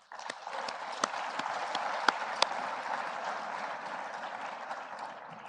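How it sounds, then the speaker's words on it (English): An audience applauding at a forum in Kigali, a broad, steady wash of many hands clapping that starts abruptly, with a few sharper claps standing out, then holds at an even level. "Please join me in giving them and all of yourselves a round of applause"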